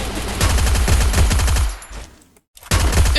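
Gunfire in the video game Free Fire comes as rapid, loud automatic bursts close by, then tails off into a short silence before another burst starts.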